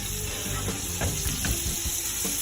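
Dry-aged Blackmore Wagyu rib frying in butter with thyme, a loud continuous close sizzle broken by a few sharp spattering pops and clicks.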